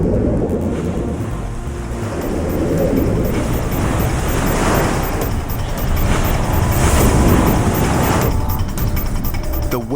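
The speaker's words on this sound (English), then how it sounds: "The waves aren't as powerful as the day Hugh was trapped in the cave" Ocean waves surge and churn continuously against a volcanic sea cliff cave, a loud, broad roar of rushing water that swells and falls without any voices.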